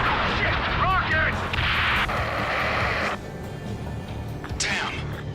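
A rocket explosion in the combat flight game Ace Combat 7, with heavy booming blasts and rushing noise under urgent radio voices.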